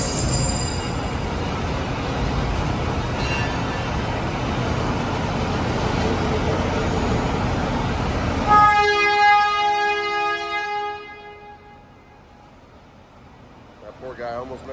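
A loud CSX freight train rumbles past for several seconds, then a long blaring horn sounds as the rumble fades, leaving quieter surroundings and a voice near the end.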